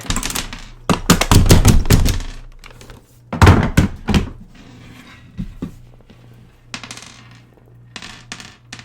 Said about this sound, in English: let's flip this over, get some of these screws out of the way.